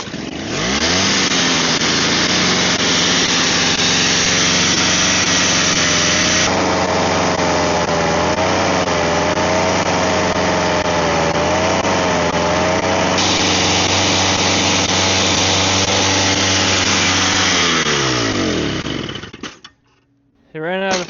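A small snow blower engine runs loud and close at a steady high-pitched drone, its pitch wavering slightly midway, then sputters and dies near the end before a brief restart or clatter.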